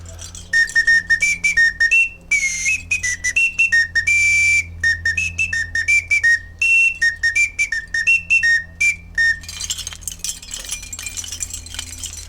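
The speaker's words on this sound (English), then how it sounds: "It's called the Oscar Mayer Weenie Whistle." An Oscar Mayer Weenie Whistle, a small plastic novelty whistle from 7-Eleven, blown in a long run of short shrill toots that step between a few pitches in a bouncy tune, close and loud with no talking.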